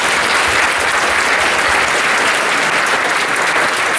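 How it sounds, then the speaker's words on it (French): Audience applause after a choir performance at a joint cadet music concert in Charlesbourg, a steady, dense wash of clapping from a large crowd that stays loud and even throughout. "donc on peut les applaudir encore une fois"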